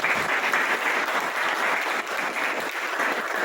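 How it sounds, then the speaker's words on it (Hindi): A crowd at a Har Ghar Tiranga patriotic event claps for the singer of the national song, a dense, even burst of applause lasting the whole moment without speech. "थोड़ा सा ताली हो जाए।"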